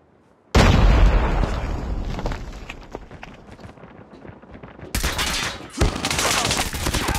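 A grenade blast and bursts of gunfire in the mobile shooter Call of Duty Mobile during a tournament team match: a loud explosion hits at once, its rumble fades under scattered shots, then sharp crackling gunfire returns in dense bursts.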